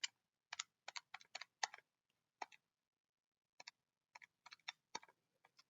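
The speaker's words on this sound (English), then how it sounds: "if I type that into my calculator" Calculator buttons pressed to enter numbers, giving quiet, crisp clicks in quick clusters of two to four, with short pauses between groups and a longer gap midway.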